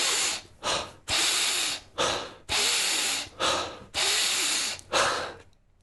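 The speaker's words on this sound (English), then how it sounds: "In that case, you want to emphasize the inhale." Deep, emphasized inhales in a breathing exercise, roughly eight long breaths drawn close to the microphone, each a rushing whoosh separated by short pauses.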